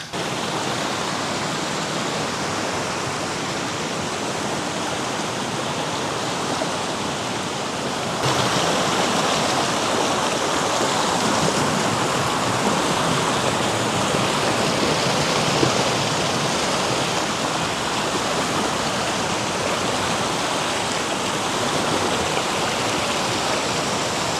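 A small stream of water flows past wooden footbridges, a steady close rushing and babbling that runs unbroken and grows slightly louder partway through, with no voices.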